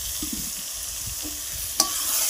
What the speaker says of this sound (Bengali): এখন কাঁঠালগুলোকে ছেড়ে দিলাম,